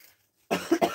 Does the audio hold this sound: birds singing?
no